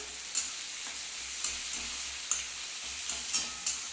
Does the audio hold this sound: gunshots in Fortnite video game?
no